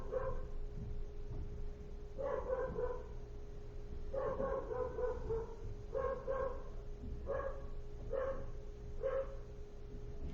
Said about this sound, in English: This is a dog barker.